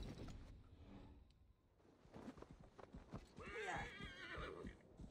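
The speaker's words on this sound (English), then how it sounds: "Let's go, my trusty steed." A horse in the video game Assassin's Creed Valhalla lets out a loud, wavering whinny after a stretch of hoof clops and shuffling, the neigh rising clearly near the end.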